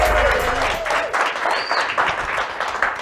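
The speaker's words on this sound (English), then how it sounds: "So clap it up one more time" Studio audience clapping for a talk show host, a modest, close crowd applauding for a few seconds with a voice briefly over the start.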